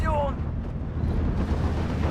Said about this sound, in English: So another ammo explosion there, killing another tank, an M4A1 Sherman